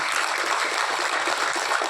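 Applause from an audience at a Tamil film press meet, a steady, dense wash of clapping that holds at an even level for the whole two seconds with no talk over it.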